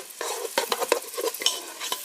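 Rice and sausage soup ingredients cooking in a Ninja pot, with a soft close sizzle and quick irregular stirring clatters over about two seconds, no voices.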